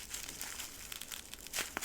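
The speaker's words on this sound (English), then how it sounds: "And then we're going to unwrap our Edison bulb here." Close, fairly quiet crinkling of wrapping as an Edison bulb is unwrapped by hand, with irregular rustles and a sharper crackle near the end.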